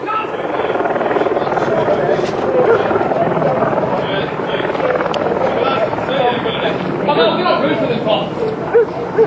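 A police helicopter with a heat-seeking camera drones steadily overhead during a search for car thieves, its rotor noise filling the background while people talk and move about nearby in a pub garden.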